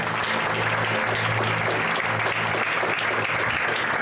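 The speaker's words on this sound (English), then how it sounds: "But if you can clap, hopefully you'll hear it." Audience at a baseball graduation applauding, a dense, sustained burst of many hands clapping that fills the whole stretch without pause.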